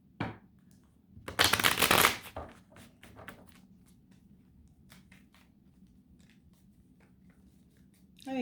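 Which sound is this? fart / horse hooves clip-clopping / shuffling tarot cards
shuffling tarot cards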